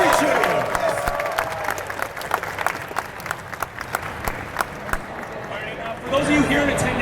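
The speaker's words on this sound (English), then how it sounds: "Another round of applause for Ed." Audience applause and scattered cheering from a crowd at a gaming convention live stream, clapping loud at first, thinning in the middle and swelling again at the end, with crowd chatter underneath.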